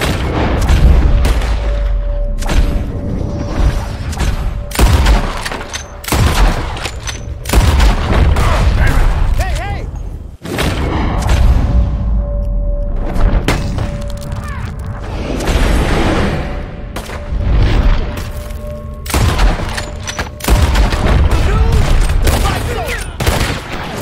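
Loud, heavy gunfire in Red Dead Redemption 2, rapid volleys and booming shots in bursts with short pauses between, with a voice speaking at times.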